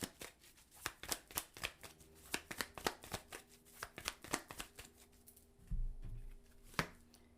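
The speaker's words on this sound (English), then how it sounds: "So let's pull some clarifying cards for the Knight of Swords." Tarot cards shuffled by hand make a rapid run of crisp slaps and riffling clicks, close and fairly quiet, ending in a brief soft thump and a last snap.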